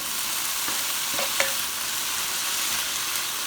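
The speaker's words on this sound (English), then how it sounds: "Give that a big stir around." Ground turkey with onion and spices fries in a pan under a constant bright sizzle, with a few light scrapes of a utensil partway through, close and alone without talk.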